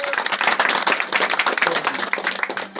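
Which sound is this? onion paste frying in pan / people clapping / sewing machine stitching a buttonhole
people clapping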